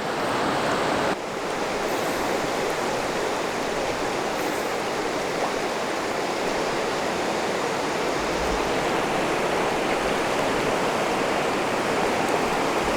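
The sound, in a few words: river rapids flowing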